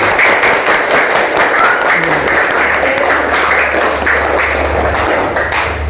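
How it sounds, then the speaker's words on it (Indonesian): Classroom applause for a sixth-grade student named Hayden during an Islamic studies lesson, with steady clapping from many hands continuing throughout at fairly loud level, with some faint voices underneath. "Ya, tepuk tangan untuk Hayden."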